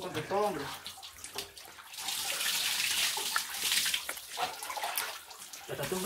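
Water pours and splashes during a homemade dog bath in El Salvador, a steady wash of running water that holds for several seconds, with a voice talking over it near the start.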